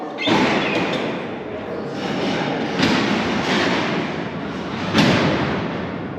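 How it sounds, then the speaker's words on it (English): Heavy metal cell doors at Alcatraz, tier 2 of C block, rumble and clang in a loud, continuous wash of sliding steel and reverberant thuds, with sharper bangs near the start, near three seconds and at five seconds. "So I'm going to open up and close the doors one more time"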